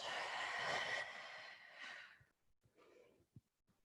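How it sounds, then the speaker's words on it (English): A long, breathy exhale during a yoga class, close and audible as a soft sighing rush of air that gradually tapers off, followed by a few quiet clicks and faint breath sounds. "And breathing out."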